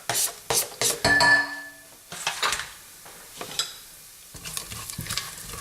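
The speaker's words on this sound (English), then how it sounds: "I'm going to add in the onions and the garlic as well, and I'm going to fry these off" Onions and garlic frying in a hot pan: close scraping and stirring strokes over a soft sizzle, with a few louder clusters of scraping, and no talking.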